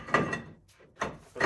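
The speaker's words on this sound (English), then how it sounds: "you can just slide the hub on" A brake hub slid onto the rear axle of a Dodge L-body car during a five-lug disc brake conversion, giving a few short scraping, sliding bursts, fairly close, with a quiet gap in the middle.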